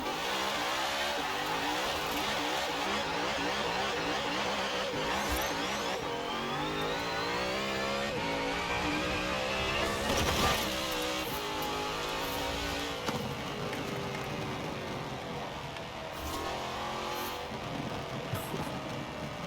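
A car engine in the racing game Forza Horizon 4 revs and accelerates continuously, loud and close, with rising and falling pitch sweeps as gears shift, heard alone without talk.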